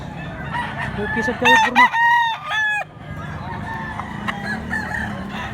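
A family farm rooster in Mantalungon, Cebu crows once, loud and close, a rising multi-part call over soft clucking and low background noise, with someone speaking briefly before and after.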